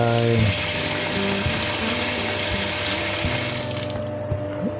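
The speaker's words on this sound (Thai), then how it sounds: "แช่น้ำแล้วก็เปิดน้ำลงไป" Tap water running onto a bench grinder's grinding stone gives a steady, close broadband splashing hiss over a low motor hum, continuous throughout before quieting slightly at the end.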